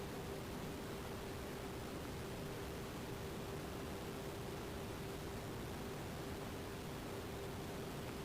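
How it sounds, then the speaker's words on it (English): A steady, even whoosh of a GE refrigerator's small fan motor blowing air with a faint constant hum underneath, unchanging for the whole stretch. "Making sure the bottom fan motor is working fine"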